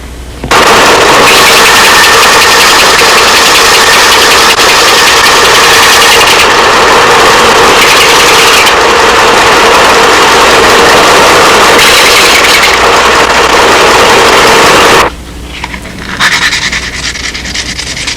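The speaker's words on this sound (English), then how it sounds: "once you get kind of the rough shape with the big sander" A big power sander grinds at plywood wooden props in a workshop, a loud, continuous buzzing roar that runs for about fifteen seconds before cutting off and leaving a quieter rumble.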